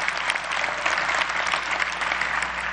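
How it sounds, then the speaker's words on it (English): Audience applause fills a legislative chamber during the organization session of the New Jersey General Assembly, steady and dense broadband clapping from a large crowd throughout, close and loud with no talk over it. "Give them a round of applause."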